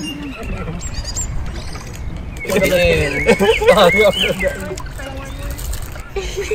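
Birds chirp outdoors on a hot day, small scattered tweets heard faintly beneath loud, close conversation.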